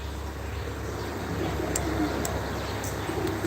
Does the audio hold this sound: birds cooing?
yes